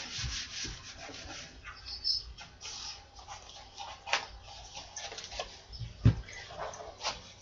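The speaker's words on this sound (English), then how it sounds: "I'm just trimming around the file folder, getting the right shape" Paper being trimmed around the edge of a file folder, with continuous close rubbing and rasping strokes and a sharper knock near the end, no talking.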